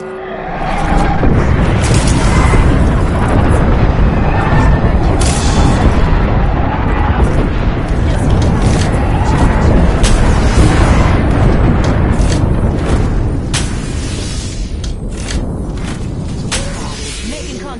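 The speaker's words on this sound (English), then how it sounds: "Heads up, we've got an airstrike coming in." Heavy airstrike explosions in the Apex Legends battle royale, a dense, continuous barrage of loud booms and rumbling blasts rolling on for most of the clip before thinning slightly toward the end.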